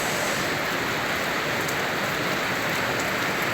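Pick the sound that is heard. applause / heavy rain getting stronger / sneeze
heavy rain getting stronger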